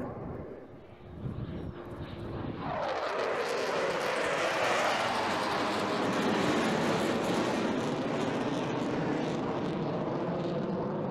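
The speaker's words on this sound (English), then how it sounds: "coming in from the left-hand side now, please welcome Turbo in the mighty Typhoon" A Eurofighter Typhoon arrives at the Eastbourne Airshow with a swelling, roaring jet thunder that builds from a distant rumble into a loud, sustained, sweeping blast of engine noise.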